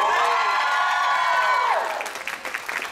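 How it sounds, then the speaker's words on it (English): Audience applause and cheering at a cosplay masquerade with skits, a dense wash of clapping and whoops that fades and thins toward the end, with a sustained tone ringing over it at first. "Thank you for giving them another round of applause"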